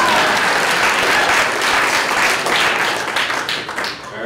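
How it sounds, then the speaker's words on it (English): Loud crowd applause at an arts awards ceremony, dense clapping that carries on steadily and begins to thin out toward the end. "Now you can clap."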